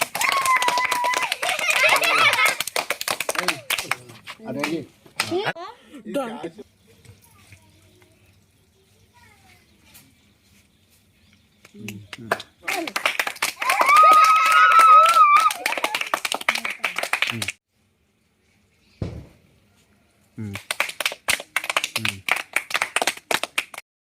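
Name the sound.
people clapping at Ganesh immersion procession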